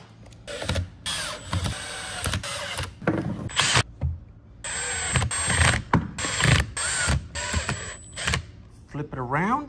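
Screws are driven into the enclosure of a 4S pouch-cell battery pack with a power driver, in short whirring bursts and ratcheting clicks under ongoing talk.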